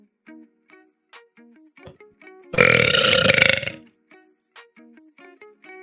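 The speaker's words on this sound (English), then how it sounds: "Wait for the burp." A long, loud, rasping burp rumbles for about a second in the middle, close and heavily distorted as if through an effects unit, set among short clipped vocal sounds and chatter before and after.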